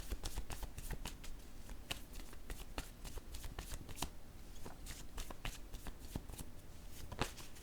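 Tarot cards shuffled and flipped by hand in a dense, steady run of crisp papery riffles and snaps, close and continuous with no talking.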